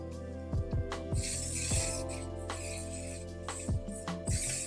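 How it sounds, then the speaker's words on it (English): Several quick, short hissing bursts from a hair spray can, spaced irregularly, close up against a faint low hum. "take my full control spray and spray it just so everything can stay in place"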